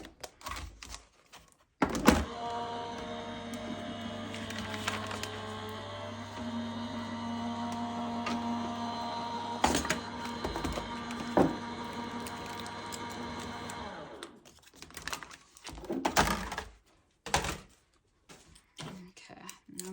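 An electronic cutting machine cuts a layer of crystal white card, humming and whirring steadily with thunks and clicks for about twelve seconds, followed by a few scattered handling knocks.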